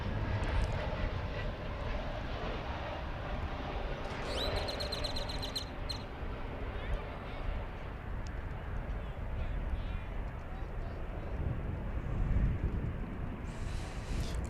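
A Spirit Airbus A321neo lands at DFW Airport on the left-side runway, a steady broad engine roar throughout with a brief high whine partway, and talk faintly present.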